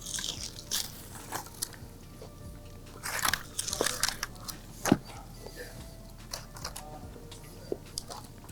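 A hot garlic parmesan chicken wing is eaten up close, with scattered crunchy bites and soft chewing over a quiet room, and no one talks.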